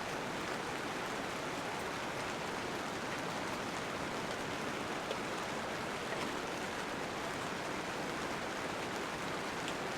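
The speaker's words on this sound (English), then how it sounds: "I camp in the rain. There's water everywhere." Steady rain falls without pause on a car-camping setup with an SUV tent, a dense, even hiss close by with no voices.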